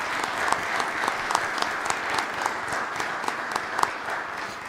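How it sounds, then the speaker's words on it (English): A council meeting audience gives a steady round of applause, dense overlapping claps with a few sharper individual hits, moderately loud and continuous throughout. "So if you would give all these people a round of applause"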